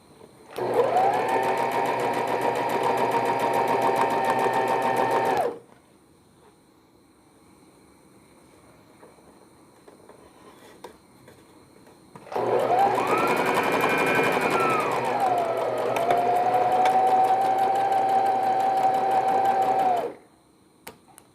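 A sewing machine stitches a newborn baby vest in two long, steady runs, the second slowing with a pitch dip before resuming, with a quiet pause between them.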